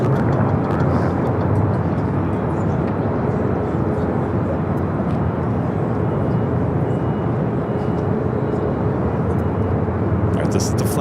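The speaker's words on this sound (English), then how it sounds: "this is the flight to Shanghai, the A350-900" An Airbus A350-900 airliner bound for Shanghai roars steadily at Los Angeles International Airport, a loud, continuous broadband jet rumble filling the whole stretch without letting up.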